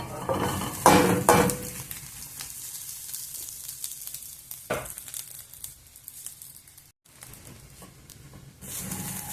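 Cooked rice is mixed into a carrot mixture in a pan, with loose scraping and stirring, crinkly rustles and occasional metal clinks of a spoon against the pan over a low background hiss.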